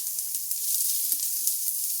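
Minced onion sizzles steadily in olive oil in a warm pan, a continuous bright crackle with small pops and no voices.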